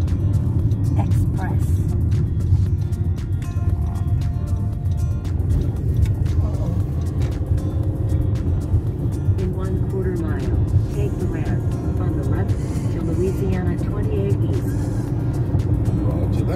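A car cruising along a Louisiana road near Expressway Drive on a road trip, with a steady, loud engine and road rumble throughout the interior while people inside talk over the drone.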